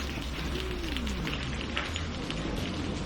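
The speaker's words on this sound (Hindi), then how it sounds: "आकर बारिश देखी?" Steady rain pours down in a cartoon story scene, a dense even hiss of drops on surfaces with a faint musical tone gliding beneath, and no talking.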